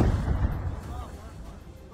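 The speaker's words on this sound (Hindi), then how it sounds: "चाय बनाने के दौरान ही अचानक बिल्डिंग के पीछे एक जोरदार विस्फोट हुआ" A loud explosion behind a building in a combat zone, opening with a heavy low blast whose deep rumble slowly fades over the following seconds.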